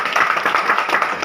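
A crowd applauds together at a company gathering in a Silchar hotel, steady dense clapping filling the whole moment at close range with no voices over it.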